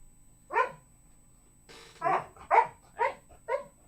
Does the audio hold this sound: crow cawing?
no